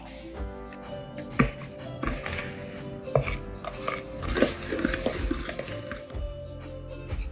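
Funfetti cupcake batter being stirred in a bowl, with irregular scraping, clinks and knocks of a utensil against the dish, close up and moderately quiet, no voices.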